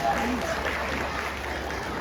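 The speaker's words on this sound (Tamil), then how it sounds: "உங்களுடைய பலத்த கரகோஷத்தை எழுப்பி உங்க மகிழ்ச்சியை வெளிப்படுத்துறீங்களா?" An audience at a Tamil cultural seminar clapping, a dense steady roar of applause from a hall crowd, loud and even throughout with no pauses.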